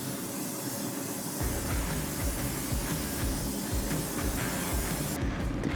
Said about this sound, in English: I get some spray, some cooking spray,